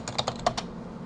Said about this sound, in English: Okay, enter your password.